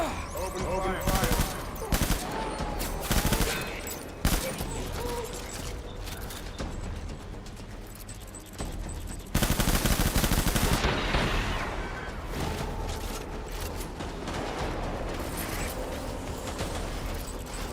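Sustained gunfire in the video game Death Stranding, loud, dense bursts and rapid volleys with a heavy barrage near the middle, running continuously with a voice shouting over it.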